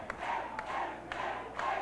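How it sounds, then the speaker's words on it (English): Wrestling crowd at a live show chanting the name Dewey in a loud, rhythmic, repeated two-beat chant, several cycles in a row filling an indoor arena. "The crowd's starting to yell, Dewey,"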